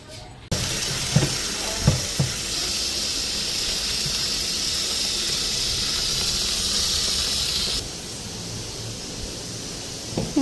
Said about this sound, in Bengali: জলটা আগে বালতিটাতে দিয়ে দিই